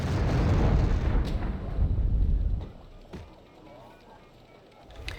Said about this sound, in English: The AS-90 still firing away its artillery